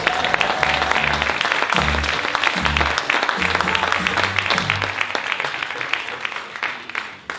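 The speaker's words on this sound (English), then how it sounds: "you may as well applaud now." Audience applauds at a comic juggling show, steady clapping from the crowd throughout, with low musical notes playing underneath for the first part.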